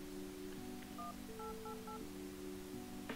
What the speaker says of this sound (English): How do you dial a phone?